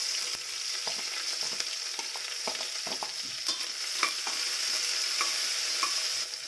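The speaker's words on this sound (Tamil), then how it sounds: "வெங்காயம் நல்லா வதங்கணும்." Onions sauté in a pan with a steady, fairly quiet sizzle and a high hiss, while a spatula scrapes and taps the pan in irregular light strokes, with no talking.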